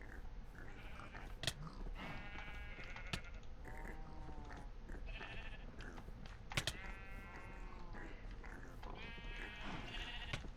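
Repeated bleats of a sheep that has been struck in the Terrafirmapunk video game, with several wavering calls over a busy background of game sounds and sharp clicks.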